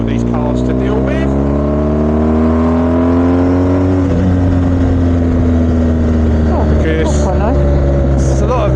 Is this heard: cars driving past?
yes